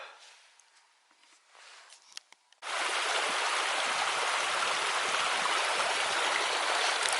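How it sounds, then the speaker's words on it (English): After a quiet start with light movement, a river in Tenerife, swollen by rain and snow, suddenly rushes in loudly, a steady broad roar of fast-flowing water. "A fairly fast flowing river tumbling down after all the rain and snow we've had."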